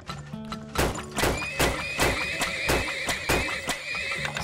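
Horses in the video game Turmoil neigh and whinny over a steady, rhythmic clip-clop of hooves, moderately loud and continuous throughout.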